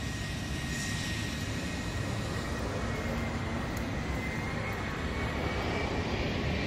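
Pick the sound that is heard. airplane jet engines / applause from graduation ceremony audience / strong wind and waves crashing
airplane jet engines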